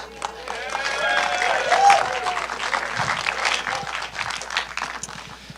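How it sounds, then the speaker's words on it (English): Audience applause and clapping in a theatre as a presenter walks in to an evening composers and lyricists event, steady broad crowd clapping with cheers and a few voices rising through it. "I like it when I walk into a room and people just clap for no reason."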